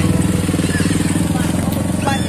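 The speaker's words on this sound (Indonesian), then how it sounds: "ada yang touring juga tuh, motor gede" A big touring motorcycle rumbles past close by at a roadside eatery near the Cikoncang dam in South Banten, its engine throbbing in a steady pulsing beat, loud throughout.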